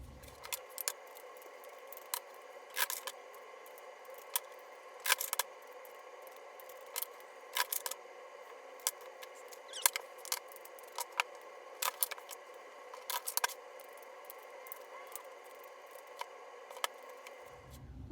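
Tarot cards are shuffled close by with steady soft papery riffling, broken by frequent sharp clicks and taps, quiet and without any talking.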